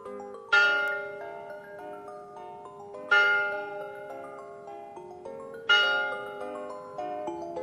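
A bell rings three times at even intervals, each bright clang ringing out and slowly fading before the next strike.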